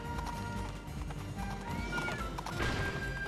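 A horse gallops with rapid clip-clop hoofbeats and lets out a whinny in the video game Princess Peach Showtime, loud and continuous against busy game music.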